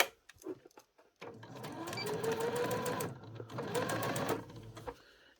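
A sewing machine stitches a school blazer in two sustained bursts of close, rhythmic whirring after a few scattered clicks and handling noises at the start.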